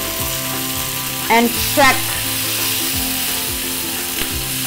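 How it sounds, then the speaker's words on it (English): Octopus sears in a hot pan, giving a loud, steady sizzle close by, with a few sharper bursts of spatter and clattering, while someone speaks a couple of words. "Sizzle, the flame."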